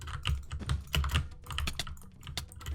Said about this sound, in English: so I butterfly click.